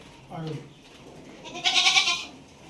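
A male goat with its four legs tied bleats in a short quavering call near the end, after a brief burst of voices earlier in the clip.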